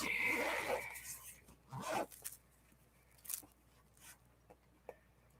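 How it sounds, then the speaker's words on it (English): A zipper on a folder being opened, starting with a longer rasping pull and followed by several shorter scrapes and rustles of handling, close and quiet. "Let me get the zipper here open."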